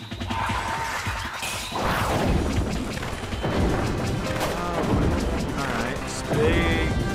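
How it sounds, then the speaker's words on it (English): Big, crashing explosions from the arena shooter K3D The True Arena burst one after another with booms and smashing debris over a busy game soundtrack, loud and continuous throughout. "Alright, big nutty explosions."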